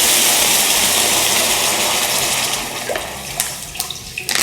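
Water poured steadily for a pot of Shin Ramyun, 500 ml, a continuous close rushing splash that thins and breaks into a few drips and trickles at the end.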